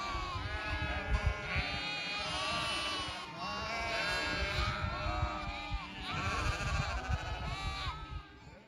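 Ewes and lambs bleat continuously on an upland fell, many overlapping calls near and far in a busy, restless chorus with no talking.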